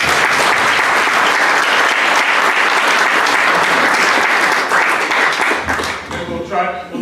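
Loud, dense audience applause at a National Review Institute event, filling the room for about six seconds before thinning out as a voice begins speaking at the end.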